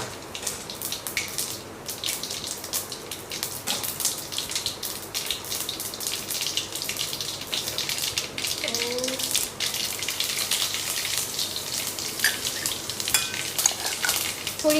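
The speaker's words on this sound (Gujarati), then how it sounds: "રાઈ જીરાનો વઘાર કરશું." Mustard and cumin seeds crackle in hot oil for a tempering, with bay leaf and chilies already in the pan: a continuous busy sizzle of fine pops, close and fairly loud, lasting the whole stretch.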